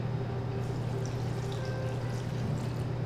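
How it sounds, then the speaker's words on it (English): Vegan chicken broth pours steadily into a cooking pot, a continuous close liquid gush over a low kitchen hum. "I have some actual like vegan chicken broth here that we're gonna pour in."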